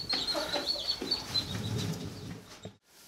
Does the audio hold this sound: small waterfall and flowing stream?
no